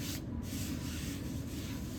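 Steady rubbing of fresh sandpaper over a coat of Benjamin Moore fast sanding primer, a faint, continuous scratchy hiss with no pauses and no voices.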